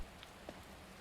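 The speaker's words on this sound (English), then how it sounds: "Clouds are parting as the rain passes on." Steady, faint rain patters on the ground in a video game, a soft continuous hiss with a couple of small drop sounds.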